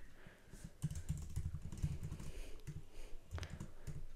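Typing on a computer keyboard, close and fairly quiet, with a steady run of quick irregular clicks and key taps that keeps going throughout, with no talking over it.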